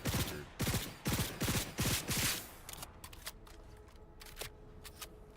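A gun being reloaded in the video game Cyberpunk 2077, the reciprocating charging handle racked in a burst of sharp, rapid metallic clacks, followed by quieter scattered clicks and handling noises.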